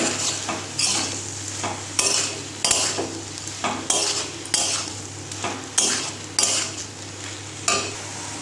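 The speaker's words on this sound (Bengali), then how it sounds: "তো এবার মাছের ডিমটা দিয়ে ভালো করে নেড়ে নেব" Fish roe is stirred in a sizzling frying pan, a spatula scraping in regular strokes about once a second over a continuous close fry hiss, with no talking.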